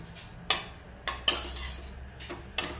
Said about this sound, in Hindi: ये मैंने ड्राई कोकोनट लिया है और उसको अच्छे से हमें भूनना है